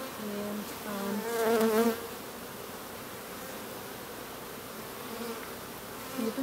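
A dense, continuous buzz of many bees close by inside an opened hive, some festooning, swelling briefly louder near the start before settling into a steady hum.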